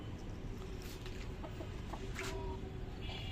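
Free-range village chickens heading back into their coop cluck in short scattered bursts, fairly faint and somewhat distant over a steady low background hum, without any talk.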